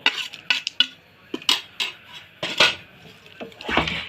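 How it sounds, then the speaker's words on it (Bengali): Semolina being stirred together with fried nuts, raisins, bay leaf, cinnamon and cardamom in a pot, with repeated loud, close clinks and scrapes of a metal spoon against the pot in an uneven rhythm. "এবার এটা আমরা ভালো করে মিশিয়ে নেব।"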